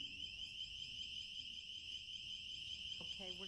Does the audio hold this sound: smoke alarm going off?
yes